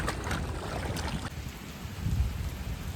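Steady, dense rain falls without pause, a broad hissing wash close by with no voices.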